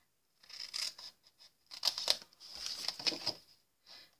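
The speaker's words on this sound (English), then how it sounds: "going to go with my paper snips, and where there's a V, I'm going to cut that square above it out completely" Paper snips cut through paper to shape a gift card box, giving a series of close, crisp snipping and rustling strokes in short irregular bursts separated by brief pauses.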